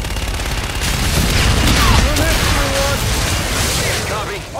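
Dense, sustained gunfire from an aircraft gun run in the Call of Duty Infinite Warfare video game, a loud continuous barrage of rapid shots and booms with radio voices talking over it.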